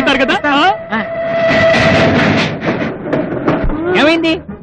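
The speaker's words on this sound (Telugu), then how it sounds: "అరే రైలు పట్టి పోయి చంద్రముఖి," A train pulls away from a railway station with a steady loud rumble and a long horn note, while people talk and shout over it up close.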